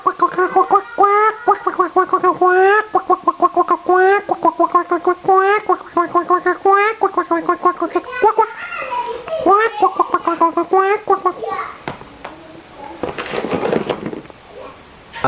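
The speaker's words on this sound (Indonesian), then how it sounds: "Suara anak bebek." Ducklings cheep in a rapid, continuous series of high, clear peeping calls close by, followed by a brief noisy burst near the end.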